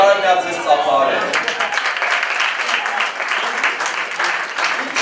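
A church congregation applauds during a pastor's sermon: a voice speaks briefly, then dense, sustained clapping swells in and carries on loudly to the end.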